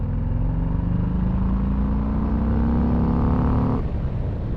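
Harley-Davidson FXDR 114 V-twin engine pulling hard in third gear around 60 km/h, a loud, close, deep rumble rising steadily in pitch before easing off near the end.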